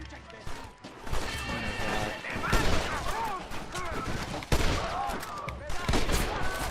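Gunshots in Red Dead Redemption during a fight to take a presidio: a ragged fusillade of close, loud shots with sharp cracks, mixed with shouting and talk throughout.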